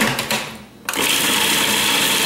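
Blender whirring two garlic cloves for basil pesto, a brief whir that dips and stops, then a loud steady motor spin resumes and runs on.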